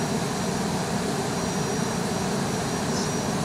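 Airliner taking off in the X-Plane 11 flight simulator game, a steady broadband engine roar that holds even and loud throughout, with no voices.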